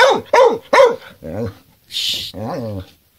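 A dog barks three times in a quick run, then gives softer, drawn-out vocal sounds broken by a brief hissing burst, all close by.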